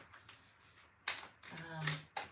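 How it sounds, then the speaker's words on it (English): Tarot cards shuffled by hand in bursts of riffling and sliding, several swishes and snaps close up, with a brief voiced murmur in between. "A weird way of shuffling."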